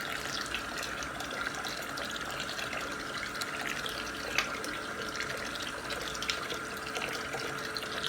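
Cold water pours steadily and continuously from a tap over boiled dried beans in a kitchen, a full, close splashing rush with no pauses and no talking.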